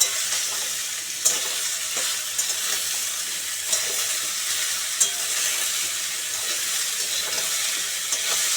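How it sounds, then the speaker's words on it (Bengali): Potato, pumpkin, eggplant and freshly added ridge gourd frying and being stirred in a pan, a loud continuous sizzle close by with periodic scraping strokes and a few sharp clicks, no voices. "আলু কুমড়ো বেগুনটা একটু ভাজা ভাজা হয়ে এলে ঝিঙেগুলো দিয়ে দিলাম"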